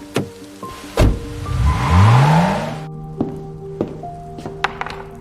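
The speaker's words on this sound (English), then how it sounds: "Her car just crossed the outer gate." A car pulls away through an outer gate, its engine rising in a rising sweep and then fading, surrounded by several sharp thunks and taps like doors and footsteps, close and fairly loud, with no voices.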